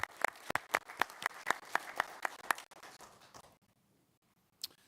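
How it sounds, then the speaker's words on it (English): Steady, evenly spaced hand claps ring out at a brisk pace for a few seconds, then trail off into near silence with one last faint clap. "just want to give them another round of applause"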